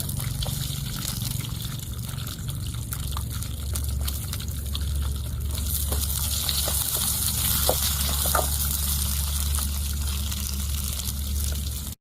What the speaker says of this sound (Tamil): அது கூடவே வெங்காயத்தை தூக்கி போடுறேன்